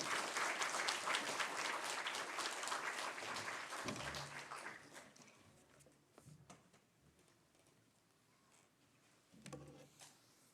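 A church congregation at a New Year revival service applauds loudly and steadily, the clapping fading after a few seconds, with a brief burst of claps returning near the end.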